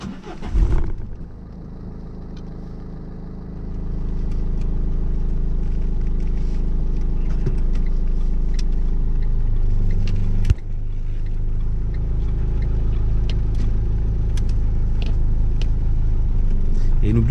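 A car pulling away during a driving lesson, its engine rising from a low idle into a steady, loud rumble of acceleration after a soft thump, with a brief knock later and voices talking over it.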